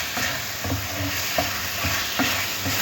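Onions and spices sizzling in oil in a pan for a bhindi dish, a steady close frying hiss broken by regular stirring scrapes and clinks.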